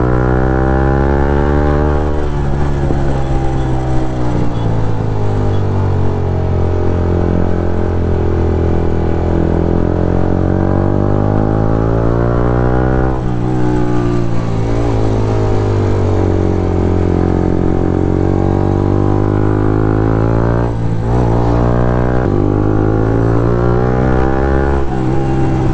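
A Yamaha MT-15 motorcycle ridden on a morning road trip to Nahargarh Fort, its engine droning steadily with rising and falling revs through gear changes, with wind noise and no talking.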